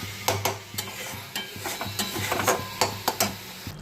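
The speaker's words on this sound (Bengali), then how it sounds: "ভালো করে মশলাটা কষে নিই।" A spoon scrapes and knocks against a pan in a quick, irregular rhythm while spice paste for an aloo capsicum chicken kosha sizzles softly underneath.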